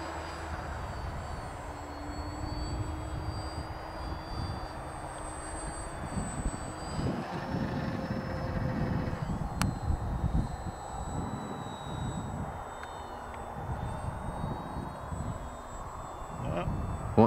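FMS FairRC Blue Jay beginner RC airplane droning overhead on its maiden flight as it climbs for a flat spin, a steady electric motor whine shifting in pitch, moderately distant, with people talking outdoors.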